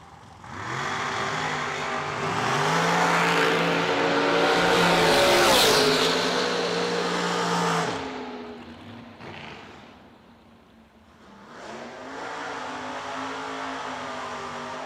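A drag racing pass between the new Ultratech Dragster and a Lumina at a fall drag meet: loud engines roar up to a peak, fade as the cars run away, then a second engine swell returns.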